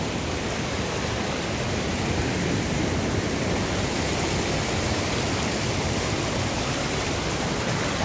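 Water bursting from a spring at Gürlevik rushes loudly and continuously, a broad, unbroken roar like a torrent pouring close by, steady for the whole stretch.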